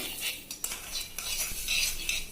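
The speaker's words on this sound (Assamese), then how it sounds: "এতিয়া এইখিনি লৰাই অকণমান ভাজি ল'ম" Fennel seeds dry-roast in an empty pan while a spoon stirs them. Quiet scraping and light metallic clinks come close up, with no sizzle of oil.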